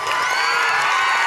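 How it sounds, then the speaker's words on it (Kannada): A school audience of children bursts into loud, continuous cheering and clapping at a felicitation event, a dense, near wash of crowd noise with whoops throughout. "ಜೋರಾದ ಚಪ್ಪಾಳೆ ನೋಡಿರಪ್ಪ."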